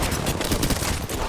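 Rapid automatic gunfire in the Apex Legends shooter game, a dense, continuous burst of shots filling the whole moment with no talk over it.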